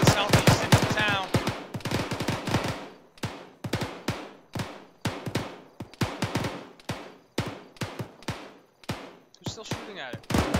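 Rapid bursts of automatic gunfire and single sharp shots, fired at a technical vehicle during a field training exercise, come in irregular clusters with short gaps, loud and close.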